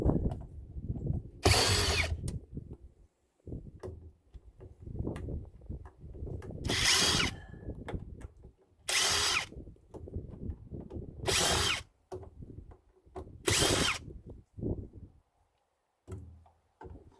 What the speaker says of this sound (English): Take these 150 screws out.